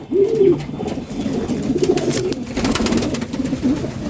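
Beauty Homa pigeons coo in low, rolling throaty calls, repeating steadily and close by with soft background rustling.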